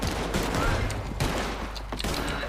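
Gunfire in the online Western game Red Dead Online comes as a dense, continuous barrage of loud overlapping shots and bangs.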